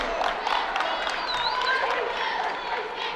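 Crowd at a Central Hardin boys varsity basketball game reacts with a burst of shouting and cheering, mixed with squeaks and a commentator talking over the noise.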